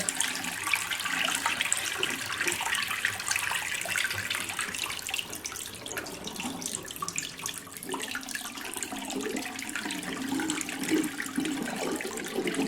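Water drains out of a deep Seipikol foot spa basin with a steady, close gurgling rush that carries on for several seconds, with no talk over it.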